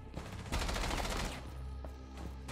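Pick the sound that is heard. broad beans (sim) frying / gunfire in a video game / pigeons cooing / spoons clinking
gunfire in a video game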